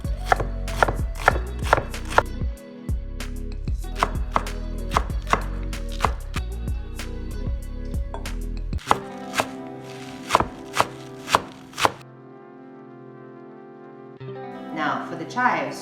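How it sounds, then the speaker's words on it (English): Knife chopping onions, scallions and chives on a cutting board, a steady run of close, sharp taps that speeds into rapid bursts, then slows to spaced single chops with a brief pause near the end. "After that, I'm going to chop my onions,"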